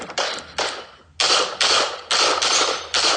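Rapid gunshots ring out at a practical shooting competition, a string of sharp, loud reports with short uneven gaps and one longer pause, close by with no talk.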